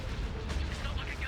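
A space battle explosion in the game Star Wars Republic at War, a dense, sustained rumbling blast with crackling bursts, loud and continuous across the moment.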